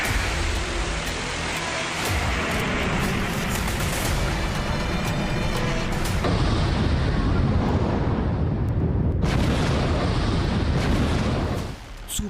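An LGM-35 Sentinel missile launches with a sustained, loud, crackling roar that rumbles continuously and shifts in texture before dropping off abruptly at the end.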